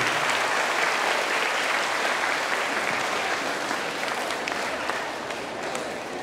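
Sustained applause from an audience at a school inauguration, greeting a second-grade teacher; dense, steady clapping that carries on evenly throughout and eases slightly near the end.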